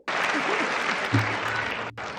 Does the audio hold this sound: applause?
yes